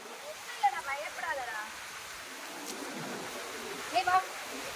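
Water falls steadily at a waterfall in a soft, even rushing hiss that is fairly faint and constant throughout, with a few brief louder splashes and some voices in the background.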